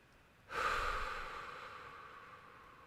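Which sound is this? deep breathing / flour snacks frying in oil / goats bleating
deep breathing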